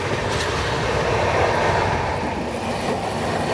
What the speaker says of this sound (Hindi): और यहाँ पे हमारे दिन की क्रॉसिंग हो रही है एलटीटी शालीमार एक्सप्रेस के साथ